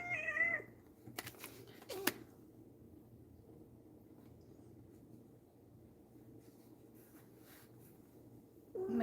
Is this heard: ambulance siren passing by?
no